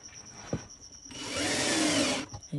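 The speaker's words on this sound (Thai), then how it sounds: "ก็จะต้องเจาะนำร่องเข้าไปก่อนนะคะ" A power drill bores a pilot hole into a budget DIY storage cabinet in a single steady burst of about a second, with quiet knocks and handling noises before and after.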